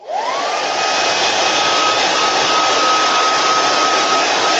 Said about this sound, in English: Now I'm going to dry it with a dryer because we are going to layer again.